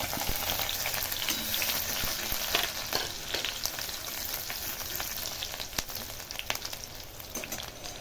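Chili sizzles and crackles in hot oil in a pan while being fried for spicy pasta, a steady hiss with sharp pops and occasional stirring scrapes, close and moderately loud, with no speech.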